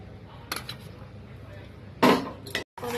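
A spoon stirs milk into a cup of coffee, giving a few light clinks against the cup, then a louder burst of rapid clattering near the end.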